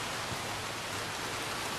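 Heavy pouring rain in the open-world video game Red Dead Redemption 2: a dense, steady, loud hiss of downpour, constant and unbroken, with no voices over it.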